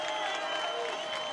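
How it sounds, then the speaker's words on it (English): Crowd noise at a 2007 varsity high school football game, HHS against DeWitt, a dense, steady roar of many voices with some clapping, loud and sustained throughout the brief moment. "Crowd getting loud."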